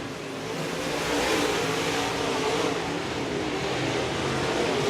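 Modified race cars roar around the track in a heat race, a dense, steady wall of engine noise from several cars at once, loud and continuous with no voices.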